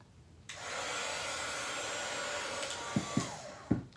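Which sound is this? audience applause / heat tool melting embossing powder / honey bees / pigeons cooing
heat tool melting embossing powder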